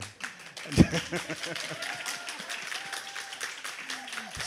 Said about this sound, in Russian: Это чувствуется хорошо, когда вы хлопаете.